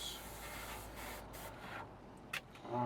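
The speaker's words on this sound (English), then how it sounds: "White coats first, and our instrument panels, give them a nice spray around." Spray paint hisses steadily as white coats and instrument panels for a 1/48 scale Airfix BAe Hawk T1 Red Arrows model kit are sprayed. A continuous close, soft hiss trails off near the end.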